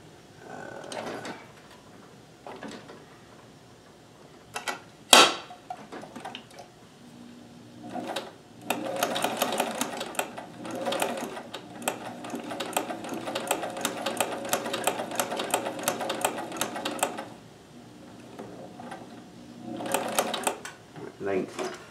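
A Kenmore super high shank sewing machine fitted with a free-motion hopping foot stitches zigzag in close, rapid clattering runs, one short burst and then a longer stretch of fast rhythmic ticking, with a sharp clack and some handling noise between.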